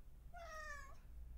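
A cat gives one short, rising meow asking for food, faint and close, over a quiet room hum.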